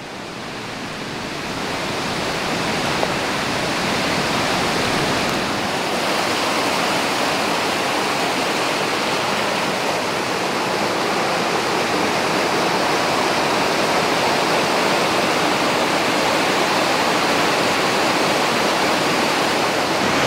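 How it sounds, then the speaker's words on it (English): The South Boulder River flows near a campsite as a loud, steady, broadband rush of creek water that continues unbroken throughout. "This is the South Boulder River."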